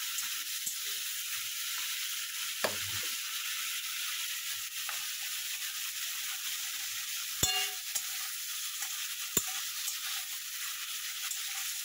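Prawns fry in oil in a home kitchen pan, a steady bright sizzle broken by a few sharp clinks and scrapes of stirring, close and without talk.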